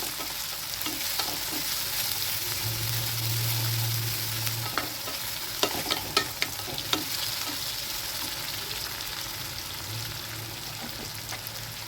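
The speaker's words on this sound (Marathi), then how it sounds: "ते दोन्ही एकत्रित करून छान व्यवस्थित असं तेलामध्ये परतून घ्यायचं आहे" Onion and chopped tomato frying in hot oil for a Maharashtrian besan dish, a steady close sizzle with scraping stir strokes and a few sharp clinks of a spoon against the pan.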